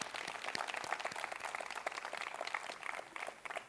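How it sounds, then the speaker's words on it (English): A crowd applauds Mani at a public speaking event with Shah Rukh Khan, dense continuous clapping holding steady throughout, fairly distant and without voices on top. "can we have one more round of applause for Mani?"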